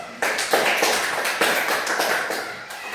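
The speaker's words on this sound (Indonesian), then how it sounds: "kita beri aplaus" A classroom gives a round of applause for a student group, several people clapping together in a dense, steady patter that runs throughout, close and fairly loud.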